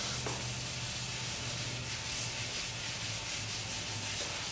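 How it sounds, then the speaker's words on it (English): A Brillo pad soaked with Simple Green scrubs a Martini-Henry Mk IV rifle, a steady close rasping rub with quick back-and-forth strokes, continuous and unbroken, with no voices. "we're just gonna scrub, scrub, scrub."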